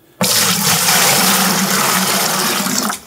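Room-temperature water gushes steadily into a pail as mead-making begins, a loud, close, continuous pour that starts abruptly and cuts off after about three seconds.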